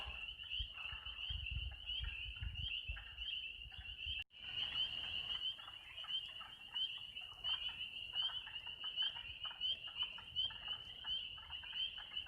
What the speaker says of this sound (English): These frogs are nearly too loud in the ears.